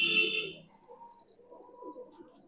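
Punjabi pigeons give low, soft coos at close range after a brief brighter burst of noise, a quiet murmuring call that fades in and out.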